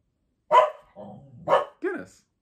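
A dog barks twice, close and loud, with a softer growl-like rumble between the barks and a higher whining yelp at the end, indoors.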